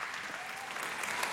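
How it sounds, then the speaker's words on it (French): Studio audience at a live opera talent show applauding, a steady, dense wash of clapping at moderate distance throughout, with no voices. "Je te raccompagne avec les applaudissements du public."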